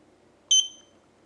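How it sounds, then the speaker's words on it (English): A eufy security camera gives a single short electronic beep after its sync button is pressed, clean and fairly close, fading quickly into a quiet room hum. "You heard the beep."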